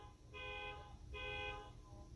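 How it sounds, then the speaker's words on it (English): A car horn honks outside a house, two sustained toots about a second apart, each around half a second long, moderately loud against a low background rumble. "do you honk your horn outside your house?"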